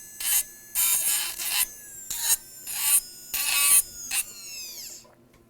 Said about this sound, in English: the trimmer cuts very smooth and removes material very quickly